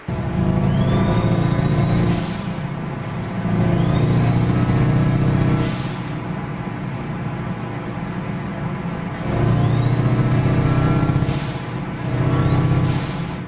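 Turbocharged engine of a 1966 Volkswagen Beetle 1200 in Gran Turismo 6, with a steady low rumble, turbo spool whistles rising in pitch and several sharp wastegate bursts, loud and close with no talk.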